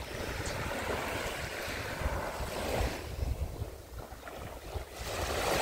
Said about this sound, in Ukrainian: А що це за хвилі?